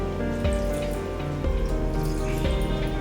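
Water is poured by hand into a mixie grinder jar holding masala powder for vatha kuzhambu, a close, continuous trickle with resonant gurgling and no talk.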